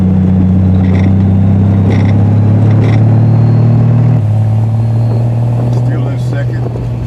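A Triumph TR6 engine pulls in second gear at about 2,600 RPM, a loud, close, steady rumbling drone that shifts pitch slightly partway through while someone talks over it.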